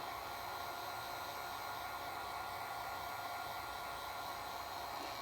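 A hair dryer blowing steadily to heat a rubber adhesive grip for a Kel-Tec KSG shotgun, a constant loud broadband whoosh with no pauses and no talking.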